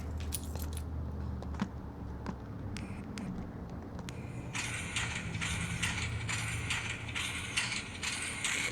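A Hornby 0-4-0T model locomotive fitted with a Wow Sound DCC decoder and keep-alive runs with faint mechanical clanks and chuffing, then a rhythmic hiss of steam beats joins in. No one speaks.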